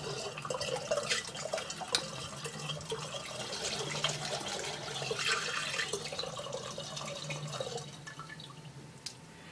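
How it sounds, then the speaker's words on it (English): Thick beer yeast slurry pours and trickles steadily through a funnel, with small splashes and drips throughout, close and fairly quiet. "So let's pour that slurry in there."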